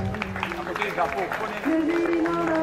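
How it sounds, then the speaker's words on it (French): An audience applauds a pupil at a school awards ceremony, steady crowd clapping running under a loud voice talking over a sound system throughout. "On applaudit encore pour elle."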